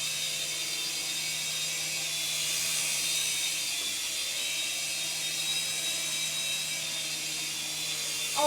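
An S107 toy helicopter in flight gives a steady, high-pitched electric whir with a faint low hum beneath, holding constant and close for the whole stretch with no voices.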